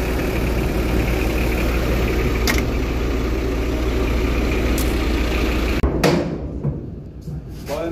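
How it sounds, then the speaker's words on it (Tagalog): A Mitsubishi engine on a newly bought forklift idles steadily and loudly, a constant low rumble, until it cuts off abruptly near the end and leaves fainter background sound. "Ang makina po niya na Mitsubishi."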